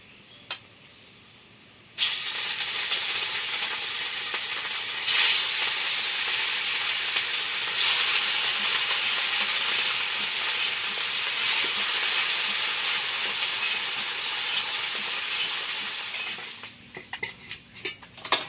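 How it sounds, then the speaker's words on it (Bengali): Rohu fish pieces fry in hot oil with a loud, steady sizzle that starts abruptly and holds for about fifteen seconds, then drops away, with a few clinks of a utensil near the end. "এই যে সব মাছ ভাজা কমপ্লিট"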